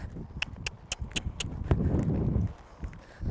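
Hooves of a roan horse under a rider give rhythmic clip-clop footfalls at a lope, close and crisp, over a low rumble of movement.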